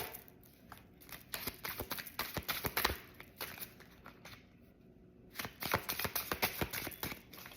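Tarot cards being shuffled by hand, quick papery riffles and slaps in bursts, close and fairly quiet, with a short pause midway before another flurry of shuffling; no voices.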